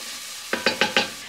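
Onions and mixed vegetables stirred in a stew pot, four quick scraping stir strokes in an even rhythm over a low background sizzle, close and alone.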